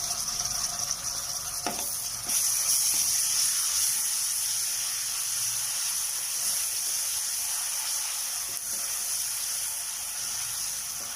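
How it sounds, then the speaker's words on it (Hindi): Garlic ginger paste sizzles as it fries with onions in a pan for a potato and capsicum dish, a steady, close hiss that runs throughout, broken only by a few faint clinks. "अब हम इसमें लहसुन अदरक का पेस्ट डाल देंगे।"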